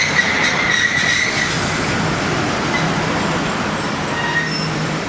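A short six-coach passenger train led by locomotive 44570 at Ranpethani station, its wheels rumbling and grinding steadily and loudly close by, with faint high squeals early on and no speech.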